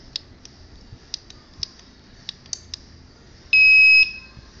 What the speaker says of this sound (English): the buzzer is also alerting the user